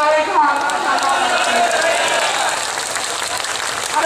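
Dense applause from a large crowd of protesting teachers at a Delhi demonstration, a steady wash of clapping with crowd noise throughout, a voice calling out over it near the start.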